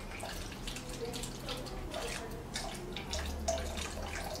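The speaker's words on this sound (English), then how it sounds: "We just fill water from the funnel through the water hole until there is a water coming out from the overflow." Water is poured through a funnel into the fill hole of a cryolipolysis machine, making a soft continuous trickle and gurgle with small splashes, close but fairly quiet, with no talk over it.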